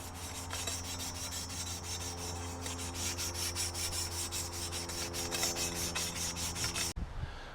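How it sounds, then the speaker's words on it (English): Steady abrasive rubbing and scouring as rust is worked off a metal VW shift rod part, a continuous close gritty rasp with faint rhythmic strokes, stopping abruptly near the end. "Just get all that rust off there, and then we'll polish this thing up"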